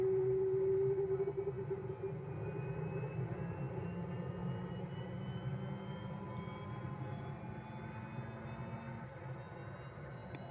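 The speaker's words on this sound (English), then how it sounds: "you can hear the APU is coming online now" An aircraft APU spools up in Microsoft Flight Simulator, on a Navy T-45 Goshawk jet trainer. A steady, close turbine drone with a faint rising whine holds throughout, and a low hum fades early on.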